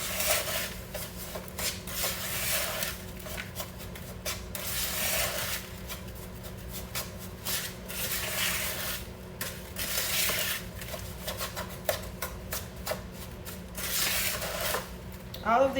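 Brown sugar stirred into granulated sugar and butter for New Orleans pralines, a continuous gritty scraping and rubbing of a utensil against a pot or bowl, close up and steady with rhythmic pulses.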